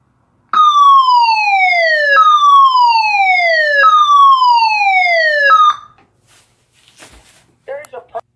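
A Federal Signal SelecTone 50D electronic siren sounding its Yeow tone, four repeated downward-sweeping wails, loud and close, then cutting off, followed by faint handling noise and a short electronic blip.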